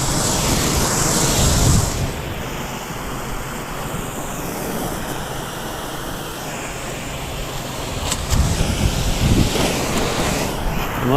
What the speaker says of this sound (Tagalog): malakas yung hangin yan